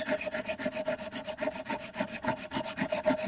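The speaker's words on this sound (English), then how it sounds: "What I'm using here is a 80 grit sandpaper to hog off or remove a lot of this JB Weld high heat" Coarse 80-grit sandpaper rubbed by hand to remove cured JB Weld high-heat epoxy from a model part, a steady rhythmic back-and-forth rasping of about four strokes per second, close and fairly loud with no talk.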